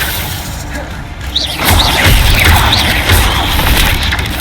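Incendio fire spell cast in Hogwarts Legacy: a loud roaring burst of flame erupts partway through and holds as a dense, sustained blaze over steady game ambience.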